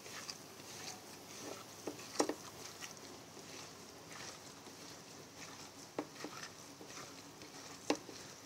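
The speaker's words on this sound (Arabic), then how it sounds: "حطيت البصل وعليه الفلفل الاسود، وهقعد ادعكهم كده مع بعض" Chopped onion and black pepper are rubbed together by hand, a soft, faint wet patter and squish with a few sharper clicks and crunches scattered through a quiet kitchen.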